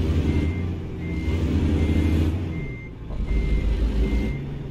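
Truck reversing alarm in American Truck Simulator, a regular series of short electronic beeps repeating over a steady low diesel engine rumble, fairly loud and close throughout.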